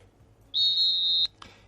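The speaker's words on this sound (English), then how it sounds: "Eghosa, the final whistle." A single sustained referee's whistle blast sounds at the end of a football match, a clear, bright tone held for under a second, followed by a short faint chirp over quiet background.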